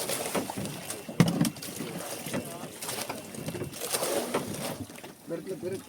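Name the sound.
waves hitting a small boat from the side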